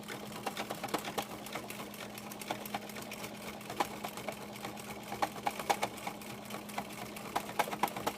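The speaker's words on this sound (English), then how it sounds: "And now I start quilting again." A home sewing machine doing free-motion quilting runs continuously with a steady motor hum and a fast, rapid stitching patter, close and loud throughout, with no talking.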